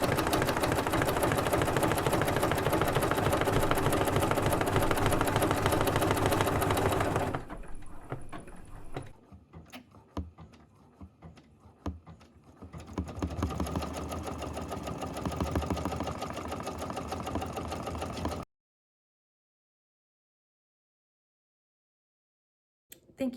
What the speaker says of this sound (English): I'm going to press start, just start it